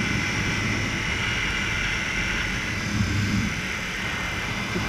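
A 2017 Yamaha MT-10 SP motorcycle pulls away in first gear, its engine a steady, fairly loud roar held close and even throughout, with no talk over it.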